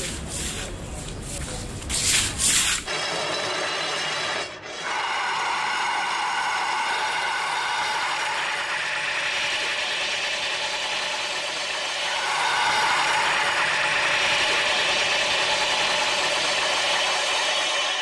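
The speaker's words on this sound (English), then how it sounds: "After coloring, it comes to the next step, smoothing. Smoothing smooths out any imperfection on the cloisonne." A cloisonne enamel piece is smoothed by sanding in a steady, continuous grinding rub lasting many seconds, with a brief rattling noise at the start, a short dip midway and a slightly louder stretch near the end.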